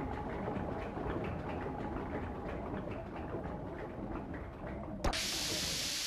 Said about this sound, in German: ein Mechanismus, der das Ganze hier aufmacht. Und, boah, ein Haufen Dampf.